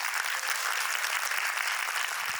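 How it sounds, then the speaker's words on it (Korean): Steady applause from a crowd fills the space, dense and continuous clapping with no voices over it. "뜨거운 박수로 맞아주시죠"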